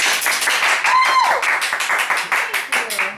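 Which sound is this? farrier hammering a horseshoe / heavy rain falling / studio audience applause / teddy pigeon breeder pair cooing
studio audience applause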